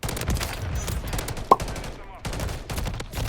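Rapid bursts of weapon fire in a Call of Duty first-person shooter, set to burst mode, sounding as short clustered shots with one sharper crack midway, close and moderately loud over game ambience.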